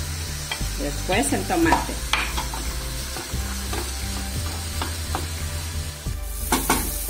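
Bell pepper hits a hot frying pan of softened onion for a bone broth and sizzles steadily, with stirring and faint utensil scrapes over it and a brief spoken remark partway through.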